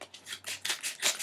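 Scissors snipping and rubbing through a package, a quick series of short scratchy cuts, close and fairly faint.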